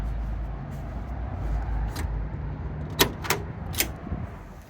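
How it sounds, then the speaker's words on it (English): Door of a restored Ford Bronco with a 302 V8 and five-speed, ivory leather interior, opening with a few crisp latch clicks near the end, close up over a low steady rumble. "doors open with a nice satisfying click"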